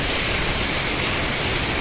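A heavy summer rainstorm pours down with wind while water runs off a freshly plowed field. It makes a loud, constant, close roaring wash with no breaks and no talking.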